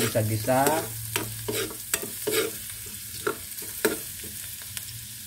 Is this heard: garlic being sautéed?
yes